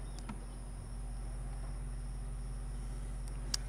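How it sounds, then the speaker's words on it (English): Bees swarm around an opened hive, giving a continuous close drone with a faint tick or two near the end. "Bees bump you to warn off predators."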